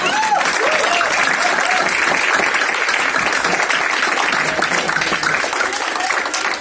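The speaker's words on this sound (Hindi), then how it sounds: "ताली में दम नहीं है" Steady, dense applause from an audience at a science education centre performance, loud and continuous throughout with a faint voice rising briefly near the start.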